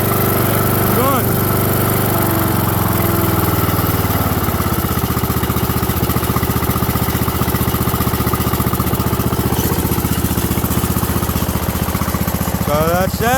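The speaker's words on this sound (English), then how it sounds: "Just a running lawnmower." A lawn mower engine running steadily, loud and close, with a continuous droning rumble that keeps going throughout, with no clear talking.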